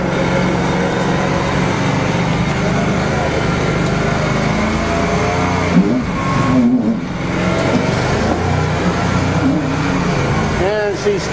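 A 427 dump truck engine revs loudly on a farm as the truck strains, stuck in mud, its steady drone rising and wavering up close, with someone speaking over it.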